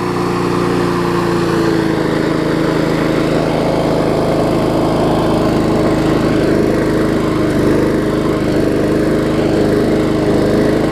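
An older Murray 4hp lawn mower engine runs at a steady, even idle without surging, loud and close, with a continuous buzzing drone throughout.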